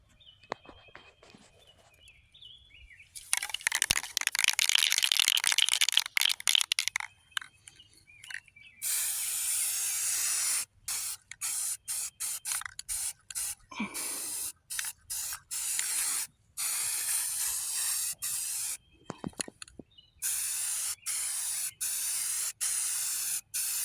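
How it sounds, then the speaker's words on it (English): Flat black primer sprayed from an aerosol can in close, loud hissing bursts, one long spray followed by many short on-off bursts with brief silences between. "This is what spray can I'm using. Flat black primer"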